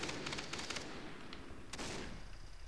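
Shotgun blasts in Far Cry 3 multiplayer, a quick burst of reports early on and another loud crack near the end, set against a dense, noisy game backdrop with no talk.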